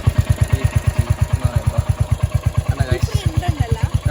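A Royal Enfield Hunter 350 motorcycle idles close by with a steady, rhythmic low thump, while people talk over it.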